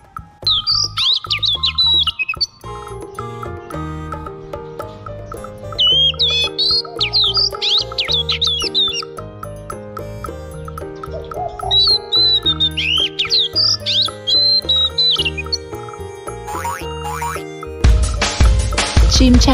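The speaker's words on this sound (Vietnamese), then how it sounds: "Chim chích chòe lửa." A white-rumped shama sings in bursts of bright, rapid warbling phrases, repeated several times over steady background music.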